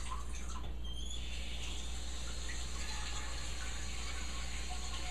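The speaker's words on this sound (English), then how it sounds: "I'm going to fill this with water." Water pours in a steady, soft stream into a loaf pan as a water bath for scone bread pudding, faint and continuous with no talking.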